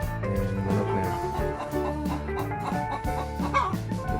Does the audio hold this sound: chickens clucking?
yes